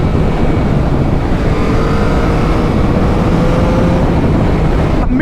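A Yamaha MT motorcycle engine holds steady at about 6,000 RPM. The loud, unbroken drone is mixed with heavy wind rush, and a faint whine runs through it.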